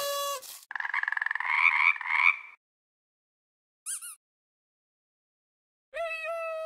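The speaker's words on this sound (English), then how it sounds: "Find the frog." A cartoon frog croaks in a children's colour-matching game, giving a few short, bright bursts of croaking separated by silence.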